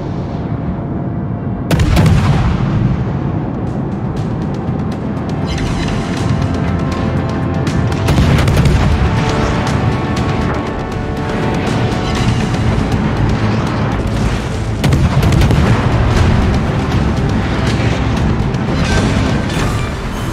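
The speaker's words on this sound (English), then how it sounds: "We've destroyed an enemy battleship." Heavy naval gunfire in a warship battle game as an enemy battleship is destroyed, loud booming salvos and explosions over a constant roaring rumble, with several big blasts spaced through a long stretch.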